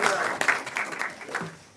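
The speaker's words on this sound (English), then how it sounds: "I think the rest of us owe you a round of applause" Applause rises from the audience at a city council regular meeting, moderate and somewhat distant, with voices mixed in through the brief burst.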